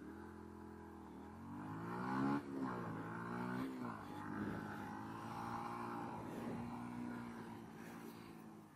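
A motorcycle engine pulls away in first gear during a slalom exercise, its note rising and dipping through several quick throttle swells, loud and close.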